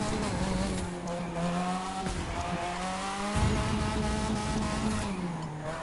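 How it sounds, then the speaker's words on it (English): Car drifting through corners in The Crew 2 racing game, with a steady, close engine drone and a sustained tire squeal that rises and shifts in pitch as the slide is held and chained. "Here I go, and chain up the drift."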